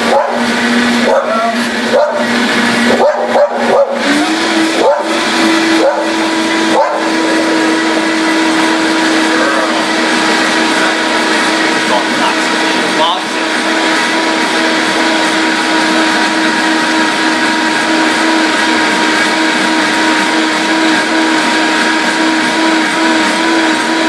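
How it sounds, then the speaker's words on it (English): A Vitamix blender on its variable speed setting whirring through a kale smoothie: a loud, steady motor roar that climbs in pitch as it spins up, with choppy knocks at the start as the ingredients catch the blades. "Started with the variable on your Vitamix, and here we go."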